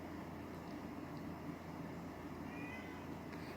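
Faint meowing from house cats sits low under a constant background hum, quiet and indistinct throughout the short stretch.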